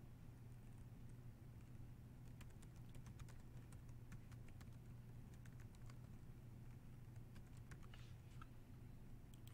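Faint, quick keystrokes on a computer keyboard as a quiz name is typed in Google Classroom, a loose run of light clicks over a steady low hum, quiet and close, with no talking.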